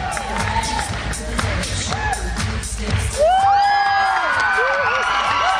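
Cheering crowd sound effect from the video game Happy Wheels, a loud burst of whoops and shouts that swells partway through, mixed with excited game noises and a player's voice.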